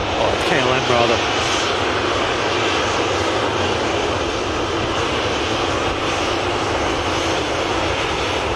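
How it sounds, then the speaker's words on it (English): An EasyJet airliner starts its jet engines on an airport apron, a steady loud roar with a rising whine, heard from a distance, while a voice talks over it. "EasyJet starting engines."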